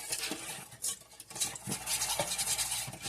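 Milk being stirred into a vanilla cream doughnut filling in a pot or bowl, a steady close scraping and swishing with soft clinks of the utensil, continuing without pause.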